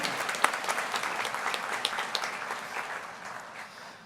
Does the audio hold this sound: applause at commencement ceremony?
yes